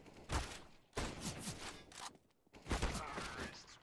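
Gunfire in a video game shooter: several sharp, loud broadband bursts in quick succession, separated by brief pauses, with game noise between them.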